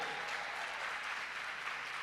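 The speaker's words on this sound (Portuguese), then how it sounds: "Pode aplaudir o Senhor." Continuous dense applause from a church conference crowd, steady and fairly distant, filling the whole moment without talk.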